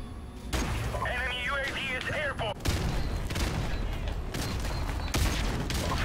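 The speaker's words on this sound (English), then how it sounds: "Yeah, let's chuck grenades all day." Grenades exploding in the first-person shooter game F.E.A.R., with two sharp, loud blasts standing out over a dense backdrop of game noise while someone talks during the first half.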